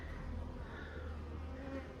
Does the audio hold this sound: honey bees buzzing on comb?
yes